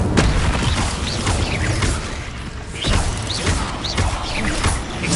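Fire spell blasts from a Hogwarts wizarding video game, a dense run of crackling bursts, whooshes and booms layered over steady game noise, loud and close throughout.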